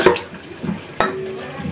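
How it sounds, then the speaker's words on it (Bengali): Hilsa curry ingredients stirred together in a pot, a few close scraping clinks of a spoon against metal with a wet, sloshing swirl, brief and fairly loud. "সবকিছু একসাথে ভালোভাবে মিশিয়ে।"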